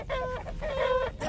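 A rooster crows in the post-apocalyptic city-building game Endzone - A World Apart, one drawn-out cock-a-doodle-doo with clucking tones, fairly loud and alone.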